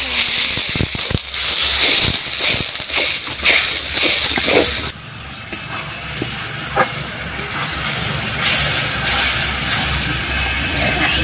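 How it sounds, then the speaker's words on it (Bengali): Water hits a hot pan holding turmeric and chili powder for a country chicken curry, setting off a loud, hissing sizzle that later settles into a quieter, steady bubbling hiss, with a few clinks of the spatula. "লঙ্কা গুঁড়ো, জল দিয়ে দিচ্ছি অল্প করে।"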